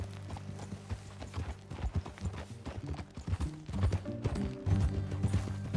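Hooves clip-clop in a quick, uneven rhythm as a horse moves at a steady gait in Red Dead Redemption 2, with a short whinny and scattered thuds in the mix.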